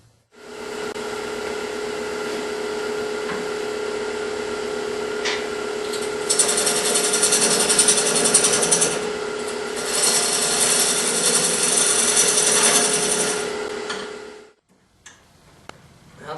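A wood lathe spins a plywood disc a little under half an inch thick, screwed to a faceplate, as a tool trues it up. A steady motor hum runs throughout, and a louder rasping cut rises and falls before the machine winds down.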